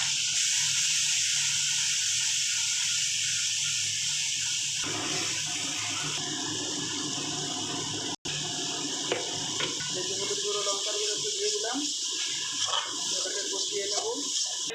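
Garlic paste hits a hot pan of oil for a dal tadka, giving a loud, steady frying hiss that shifts and crackles partway through, with a voice talking over it.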